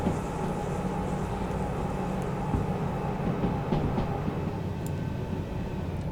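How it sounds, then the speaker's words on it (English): In the train-driving game Derail Valley, a train slows on its dynamic brake, giving a steady low rumble of rolling wagons and motor drone with faint clanks, no talk. "Utilising the dynamic brake here just to bring the speed down a little bit."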